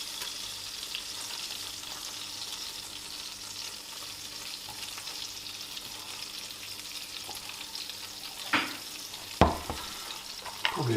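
Honey stirred into a duck gravy sizzles steadily in a hot pan as it caramelizes, a continuous close hiss with a few sharp utensil knocks toward the end.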